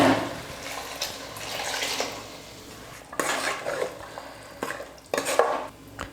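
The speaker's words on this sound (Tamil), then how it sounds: "இந்த குழம்புக்கு தேவையான அளவுக்கு தண்ணி ஊற்றிக்கலாம்." Ground coconut paste and water go into a cooking pot for a five-grain masala kulambu, heard as several bursts of splashing pour and scraping clatter of utensil against metal, separated by quieter pauses, with no talking.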